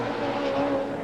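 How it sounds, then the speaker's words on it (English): A 1991 Australian Touring Car Championship car, the 17 car, slides slightly tail-out as it exits a turn at Mallala circuit, its engine droning steadily and loudly throughout. "Team leader Dick Johnson in the 17 car, getting a little taily as he gets out of that turn"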